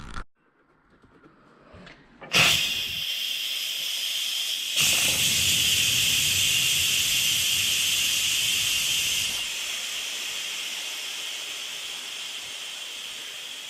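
An Instant Pot Viva venting pressure, quiet clicks and then a sudden loud, close steam hiss that surges stronger after a couple of seconds and eases slightly toward the end while continuing steadily.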